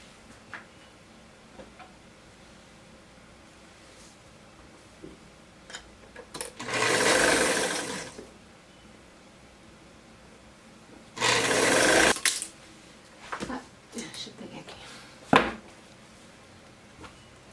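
A sewing machine stitching a seam on a simple summer dress runs in two short, loud, steady bursts of a second or so each, separated by quiet handling of the fabric.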